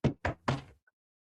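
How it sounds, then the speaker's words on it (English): Three firm knocks on a door, the third slightly drawn out, close and distinct, followed by silence, with no voices. "I knock."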